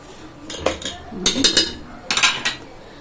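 A spoon stirs tomato sauce with a little sugar in a cooking pot, giving several bursts of metallic clinks and scrapes against the pot with pauses between them.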